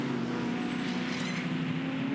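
V8 Ute race cars at Winton circuit drone steadily through a turn mid-battle, a continuous loud engine roar with no break, sounding close and sustained for the whole stretch.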